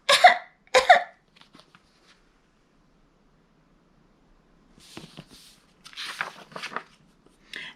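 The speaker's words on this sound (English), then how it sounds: "No one heard him cough." A short double cough in a read-aloud children's story about a flea in a barn, two sharp bursts at the start followed by quiet and faint scattered sounds later.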